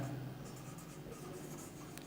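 Pen or marker strokes on a board or paper as the lens formula is written out in a physics lesson, a soft continuous scratching with brief strokes, close and fairly quiet.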